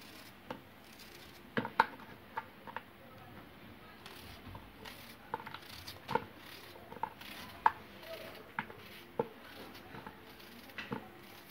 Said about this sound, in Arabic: الطاجين ديالنا نقطعو بصلة شرائح نحطها هكذا